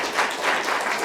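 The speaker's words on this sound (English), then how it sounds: "Thank you to all the speakers, if you want to give a round of applause." A brief burst of audience applause for the speakers at a multiple sclerosis event, dense clapping that rises and falls slightly over a second, with no voices.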